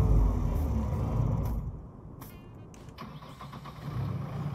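Tractor engine in the farming game Farming Simulator 19, a steady low mechanical rumble that runs loud and close, then drops to a quieter idle partway through before rising slightly again near the end.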